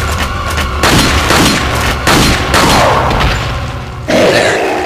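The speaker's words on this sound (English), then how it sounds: "Now shoot a volley of this into him." Gunfire volley in Resident Evil 4, a series of four heavy booming blasts spaced about a second apart, loud and close with rumbling tails, no talk.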